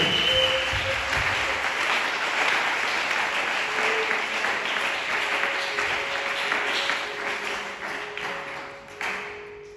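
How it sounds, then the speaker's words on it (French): A church congregation at a French-language service bursts into sustained applause, dense and steady for about eight seconds before tapering off at the end, with faint tones ringing behind the clapping. "On peut acclamer la parole de Dieu."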